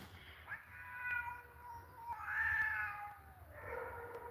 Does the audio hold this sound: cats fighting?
yes